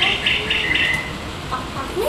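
A bird gives a series of short, high chirping calls in quick succession early on, then a few softer calls. All of it sits over a steady background hiss.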